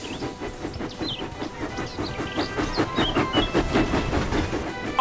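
Cartoon steam engine James puffing steadily along into the steamworks, with a continuous rhythmic chuffing and rail clatter at moderate loudness and a faint hiss, no voices.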